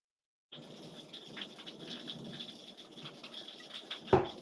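Rain falls outside, a soft, steady patter heard from indoors at a moderate distance, with a brief louder knock near the end; nobody speaks.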